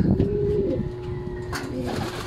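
Pet pigeons coo close by, a low, throaty murmur rising and falling in a few soft repeated calls, with no talking over them.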